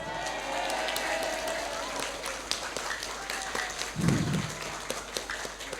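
Audience applause at an Islamic New Year celebration with a pantun performer, a moderate wash of clapping under ongoing chatter and cheering from the crowd.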